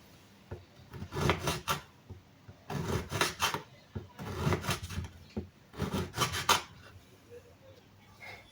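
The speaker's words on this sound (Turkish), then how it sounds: "Hemen istediğim kadar sucuğumu kesiyorum. Dilimler halinde doğruyorum" A knife cuts sucuk sausage into slices on a wooden board, heard as four close bursts of rasping, sawing strokes separated by short pauses.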